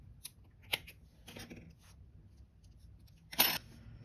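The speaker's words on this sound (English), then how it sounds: "chain one and cut your yarn" Scissors snip through crochet yarn in a few quiet, crisp cuts spaced across a few seconds, ending with one sharper close snip, in an otherwise silent room.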